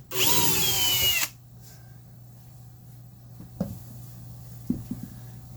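A power drill whines loudly for about a second trying to back out a stuck screw from a kitchen cabinet frame, then stops, followed by quiet hum and a few small knocks and clicks.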